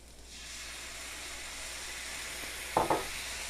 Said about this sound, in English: I'm going to put about 2 tablespoons of balsamic vinegar in it